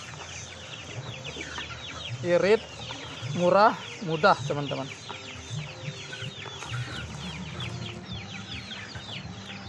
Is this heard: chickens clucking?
yes